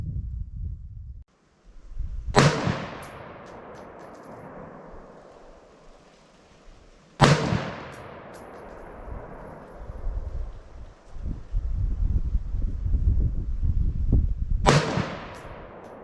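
Three loud, sharp gunshots from an AR-10 rifle chambered in 6.5 Creedmoor crack out several seconds apart, each trailing into a long rolling echo over outdoor background noise.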